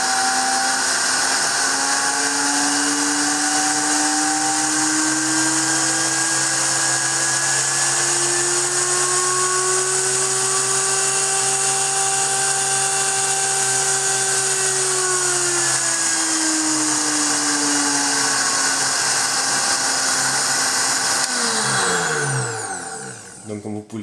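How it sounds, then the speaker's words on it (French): Klarstein Herakles 2G-B professional blender running alone, its motor whine climbing steadily in pitch as the speed rises from minimum toward maximum, loud and continuous before cutting off near the end. "c'est un blender qui est relativement bruyant lorsqu'il est sur la vitesse maximale"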